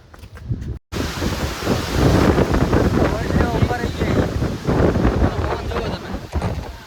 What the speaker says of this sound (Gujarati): અને પવન જો ખતરનાક પવન આવો.